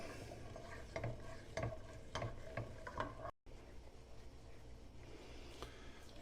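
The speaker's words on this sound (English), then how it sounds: "we just keep stirring until it's nice and smooth" A spoon stirring melting chocolate in a pot until smooth, a quiet scraping and clicking that repeats about once every half second, near and soft, with a brief dropout midway before the faint stirring resumes.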